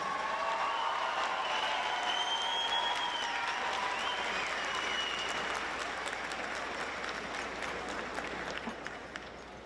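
Audience applause at a high school graduation commencement ceremony, a broad sustained wave of clapping from a large indoor crowd with a few faint cheers, gradually thinning toward the end.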